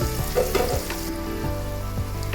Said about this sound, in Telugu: ఇది కూడా బాగా ఫ్రై అయ్యే వరకు ఇలా తిప్పుకుంటూ మిక్స్ చేసుకుంటే